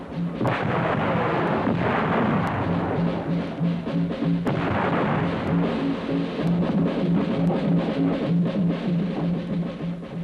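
Deep booms of cannon fire roll out one after another over a constant low rumble, heavy and continuous, with no voices, at a battle reenactment of New Market.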